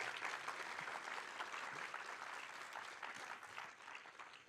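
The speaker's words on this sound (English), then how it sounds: "Let's give her a round of applause." Steady applause from a conference audience at a tech event, a dense wash of many hands clapping at a moderate, even level that holds for the whole stretch before tapering slightly at the end.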